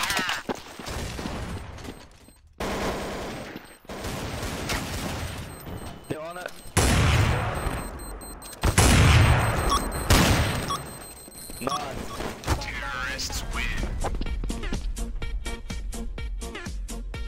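Rapid bursts of gunfire in the video game Counter-Strike: Source crack loudly and repeatedly, with heavy booming shots in the middle stretch, while players talk over the game sounds.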